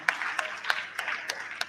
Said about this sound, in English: please join me in a round of applause for Her Majesty, Honorable Hajia Amina Aliyu.